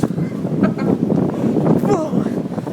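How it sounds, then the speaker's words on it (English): Strong blizzard wind buffeting a microphone outdoors, a loud, continuous roaring rush with gusts throughout, while people talk and exclaim over it. "It's really windy."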